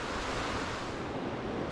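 Steady broadband rush of a wild trout creek in northeast Pennsylvania, running high and almost river-sized, a continuous close wash of flowing water with some wind buffeting and no voices.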